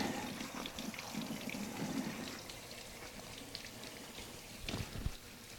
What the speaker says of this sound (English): I'm just going to rinse this off, get the temperature down so it stops cooking.